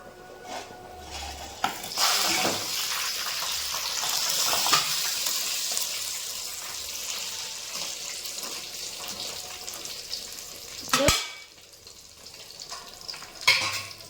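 Korameenu fish pieces fry and get stirred in a pan, a steady sizzling hiss broken by scraping stir strokes and a few sharp clinks, close and fairly loud with no talking.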